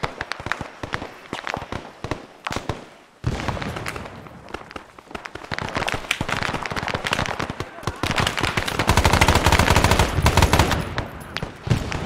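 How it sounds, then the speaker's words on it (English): Frag grenade blast amid gunfire in the ARMA 3 SOG Prairie Fire military shooter: rapid automatic fire and sharp cracks, a heavy boom about three seconds in, then dense, loud, sustained shooting building toward the end, with occasional voices. "Right where that frag just went off."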